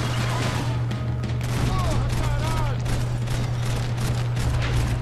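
Rapid bursts of gunfire fill a tense firefight in the video game Max Payne 3, shots cracking steadily over a constant low drone of game music and ambience, with a voice speaking amid the shooting.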